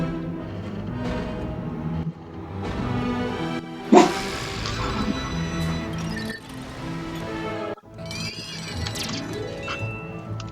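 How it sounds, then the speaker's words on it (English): A house dog barks at the neighbors, several yappy barks and whimpers cutting in at moderate distance over steady game music and effects. "Those of you who are hearing my dog keeps hearing our neighbors."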